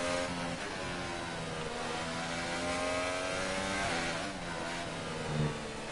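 A steady, loud Formula 1 engine in the F1 2018 video game drones throughout with shifting harmonic pitch, like a car sustaining high revs and easing off briefly, with no talking.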